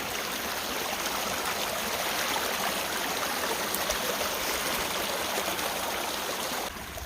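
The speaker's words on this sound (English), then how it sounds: "this is our first water source on the Appalachian Trail" A mountain stream on the Appalachian Trail, the first water source past Springer Mountain, rushes and babbles in a steady close-up wash of flowing water, unbroken and fairly loud, with no voices.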